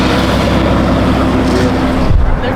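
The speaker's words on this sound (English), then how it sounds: "Got the DBS Supercars leaving out." Aston Martin DBS supercars pulling away from a car show, a loud close engine rumble with a deep low growl that rises sharply near the end as a car accelerates off.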